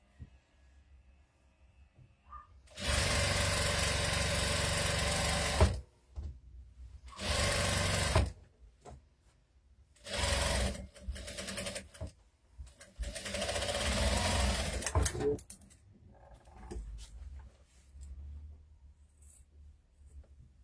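A sewing machine stitches a finishing trim onto a doll's pants, running in several separate bursts of steady whirring, the longest lasting a few seconds, with quiet pauses between them and no talking.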